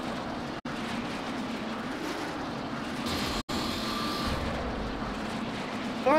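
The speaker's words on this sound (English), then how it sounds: "They got an AWACS plane flying with a lot of escorts." An AWACS plane flies overhead in the video game Saints Row: The Third, a steady engine drone with two sharp brief cutouts and a faint rising swell toward the end.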